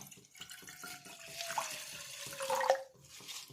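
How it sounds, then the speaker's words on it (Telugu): Water is poured into a bowl while preparing a henna hair dye mix, giving a steady splashing trickle for a few seconds at close range, with no voices. "బౌల్లో ఫస్ట్ మనం నీళ్ళు పోసుకుంటాం."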